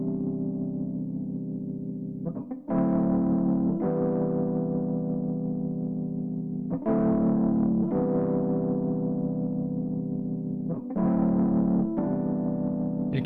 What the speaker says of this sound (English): I really like that vibrato, that distorted vibrato.